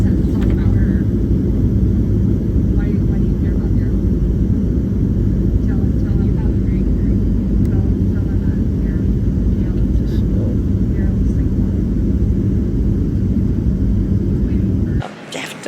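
An airplane cabin drones with a loud, steady low roar of engine noise that holds constant for about fifteen seconds before cutting off abruptly at the end.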